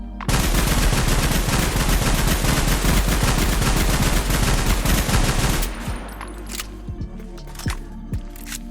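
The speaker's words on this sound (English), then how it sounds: "let's go ahead and fire an entire clip and stop talking about this bad boy" An RPK machine gun in a Minecraft Bedrock weapons addon empties a full magazine in one loud, sustained automatic burst lasting several seconds, then cuts off to quieter reload and handling clicks.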